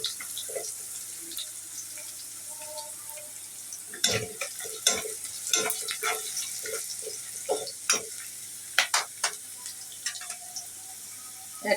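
Onions frying in a pan with salt added, for a vegetable breakfast dish: a steady hiss under sharp clinks and scrapes of stirring that come in bunches, close and fairly loud, with no talking.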